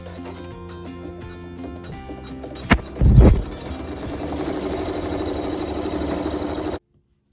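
A Brother Navigator 8 embroidery machine sews a seam with neutral thread, giving a steady, loud rhythmic mechanical hum broken by a couple of sharper knocks midway, then cutting off abruptly.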